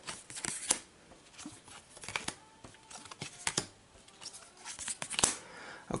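Playing cards shuffled and dealt during a Pathfinder Rise of the Runelords card game, a series of quiet, brisk riffling snaps and papery flicks that come in irregular bursts, with no talking.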